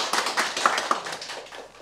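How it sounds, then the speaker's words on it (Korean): Audience clapping during a literature lecture at a Daegu literary hall, brief and fairly faint scattered applause with a few sharper claps, fading out within about two seconds. "박수 쳤어요."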